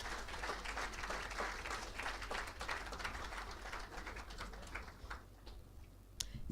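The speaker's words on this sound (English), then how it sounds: "please do a huge round of applause" Crowd applause at a college valedictory ceremony, a dense wash of clapping that carries for several seconds and then thins out, with no voice over it.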